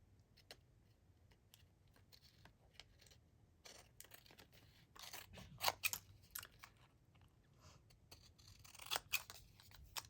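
Scissors snip through paper scraps and brown ephemera, a scattering of crisp cuts and rustles that cluster into a denser flurry of snips partway through, close and fairly quiet.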